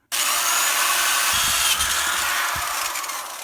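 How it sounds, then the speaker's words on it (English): A power drill with an 11/16 bit whirs steadily as it bores into wood for a homemade marimba, a loud close grinding that runs without pause, with a couple of faint knocks underneath. "drill a hole right at the center of that mark with the 11/16 drill bit"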